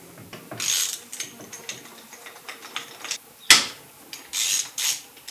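Ratchet clicking in short bursts while undoing bolts on a Kawasaki KLF300 4x4 ATV, close and fairly loud, with pauses between runs and one sharp metallic clank midway.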